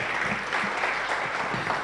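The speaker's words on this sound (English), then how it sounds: "Let's clap for Zain once more." A conference audience at a forum on refugee labour market access claps for a presenter, a steady mid-level patter of many hands that holds evenly for the whole stretch.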